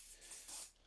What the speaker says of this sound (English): Recommend giving it a spray of WD-40.